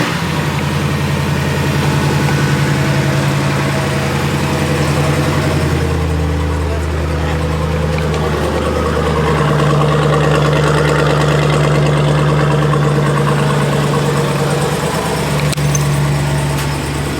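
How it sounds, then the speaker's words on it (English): A Dodge Durango SRT 392 runs with a steady, loud, deep idle rumble close by. The engine tone shifts slightly partway through as someone speaks over it. "my Dodge Durango, and let's start this bad boy up"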